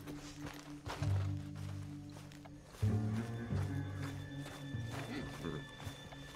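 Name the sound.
horse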